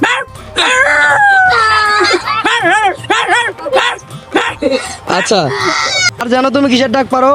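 A young boy imitates a dog with his voice, giving a run of sharp, yelping barks and whines up close, mixed with bits of adult talk.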